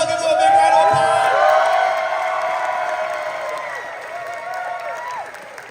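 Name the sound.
audience applause for Voltes V Legacy cast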